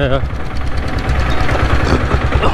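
An abandoned Royal Enfield diesel Bullet motorcycle engine runs loud and close with a steady, throbbing low pulse, while a voice talks over it.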